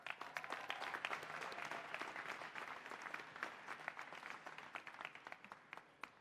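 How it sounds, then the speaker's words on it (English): Graduates at a college commencement ceremony receive a round of dense crowd applause from a large audience, steady and continuous throughout with scattered sharper claps standing out. "Let me give you all a round of applause."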